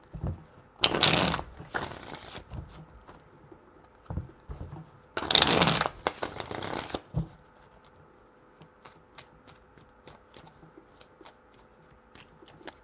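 Tarot cards are shuffled in two distinct riffling bursts, close and crisp, each lasting about a second or more, followed by lighter taps and card handling sounds.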